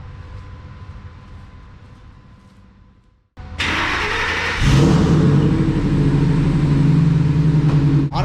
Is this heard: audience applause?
no